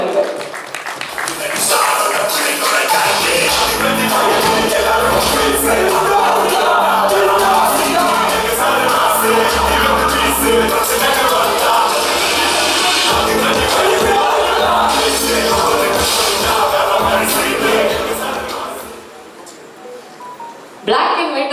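A large audience applauds and cheers as actresses are welcomed onto the stage at a press meet, a loud, dense wash of clapping and whoops that fills the hall for about twenty seconds before tapering off.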